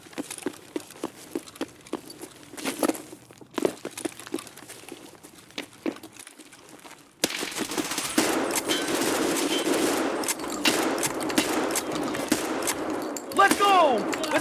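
Gunfire in Escape from Tarkov on the Streets map, a PMC engaged near a school during a scav run: scattered sharp shots early, then sustained loud automatic bursts over dense game noise, with people talking throughout.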